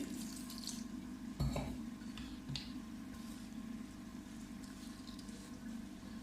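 Water splashes and trickles into a mixing bowl of chicken mince dough at close range, with a couple of brief clinks partway through.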